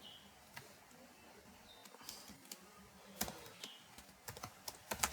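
Sparse, soft keystrokes on a computer keyboard as Python code is typed, irregular taps with a quicker flurry near the end, faint and close in a quiet room.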